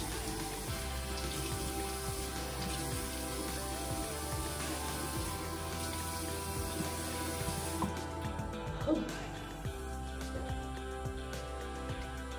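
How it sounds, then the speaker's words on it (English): Cold water runs steadily from a bathroom sink tap as a face is rinsed, a continuous close hiss with small splashing shifts near the end. "I rinse with cold water to lock in the moisturizer."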